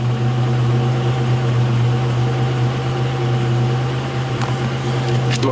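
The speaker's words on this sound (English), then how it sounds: "we just went lean. It's kind of shaking, misfiring a bit." A Buick Grand National engine running lean, shaking and misfiring, gives a loud, close, steady droning hum with a strong low tone that holds throughout, with no talking.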